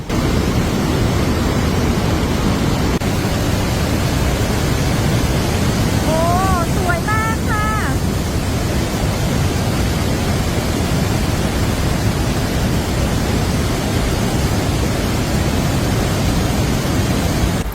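Iguazu waterfall in Brazil roars from the top viewpoint as a steady, loud, broadband wash that fills the whole stretch, with a brief whistling tone near the middle.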